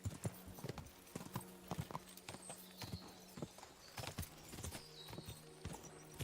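Horse hooves trotting on a path in the medieval game Kingdom Come: Deliverance II, a steady clip-clop rhythm with sharp close hoof strikes, low and clear with an occasional soft snort and no talk.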